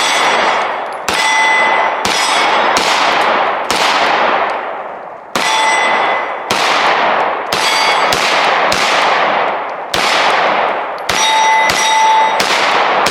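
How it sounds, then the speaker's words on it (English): Shots from a Taurus 917C pistol ring off steel targets at a range, a dozen or so loud, sharp cracks at an uneven pace, each followed by a bright metallic clang that decays slowly, close and forceful. "So since Trey shot on the steel, I think I need to as well."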